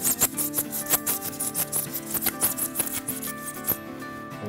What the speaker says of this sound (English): you can also use a basic handsaw. This you can cut out just like you would anything else